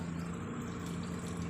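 Water runs into a car's cooling system during a coolant flush, a faint steady pouring hiss over a low continuous hum.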